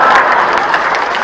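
An audience at a Hindi comedy poetry show breaks into loud, dense applause, a continuous wash of many hands clapping close by with faint crowd murmur beneath.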